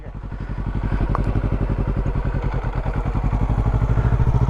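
A motorcycle being ridden by a learner rumbles steadily up close, its engine firing in a fast even pulse that builds slightly as the throttle opens, with a brief clatter partway through.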